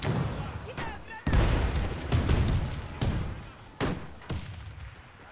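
Grenade blasts and gunfire from the shooter game Warface: a series of loud, sharp booms and bursts recur roughly every second, with heavy low thumps and dense crackling in between, and a voice calls out briefly among them.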